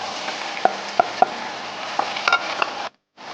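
Ground pork sautéing with garlic, onion and tomato for ginisang giniling in oyster sauce gives a steady close sizzle, punctuated by sharp spoon clinks against the pan before a sudden brief cut.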